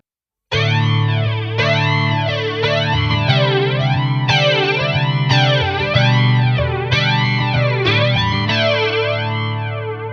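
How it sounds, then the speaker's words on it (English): Electric guitar chords through a Boss Katana 100 combo amp drenched in a sweeping flanger, the jet-like whoosh rising and falling repeatedly, loud and steady. "The next one, the red one, is actually a flanger."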